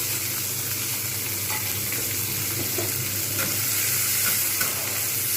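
Sliced bitter gourd fries in a pan while being stirred. A dense, continuous sizzle runs throughout, with faint scraping from the stirring and no voices.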